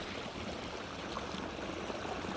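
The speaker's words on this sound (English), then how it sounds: "we have water coming into it straight down through this log" Water runs steadily down through a log into a natural pool fed by a large waterfall, a constant close rushing trickle with no speech.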